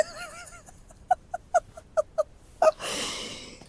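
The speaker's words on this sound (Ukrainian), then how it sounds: "Песик." A small dog gives a run of short, sharp, high yips at close range, spaced roughly evenly over a few seconds, followed by a brief rustling burst.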